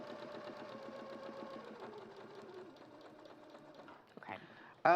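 A domestic sewing machine runs steadily, stay-stitching around the edge of a fabric circle at a 1.5 seam allowance, its fast even whir close and continuous with a brief pause and clicks near the end, while people talk over it.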